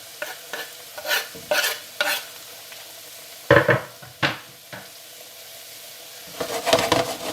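Courgettes and garlic fry in a pan, a low sizzle under repeated scraping and stirring scrapes with light clinks of utensil on metal, close and fairly loud in bursts.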